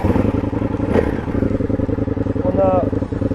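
An Indian FTR 1200 S motorcycle engine runs with a steady, close rumble and a clattering idle, and a voice talks over it throughout.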